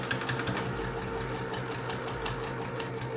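A sewing machine stitches bias binding onto fabric, joining the outer and inner parts in one pass, with a fast steady mechanical whirring and rhythmic needle clatter, close and continuous.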